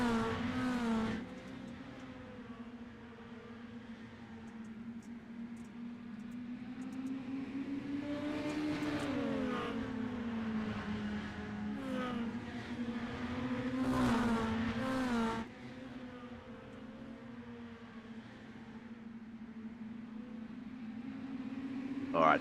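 Race car engines in an iRacing Mini Stocks league race, a steady droning hum with rising and falling revs as cars run together, moderately loud throughout with a few passing surges.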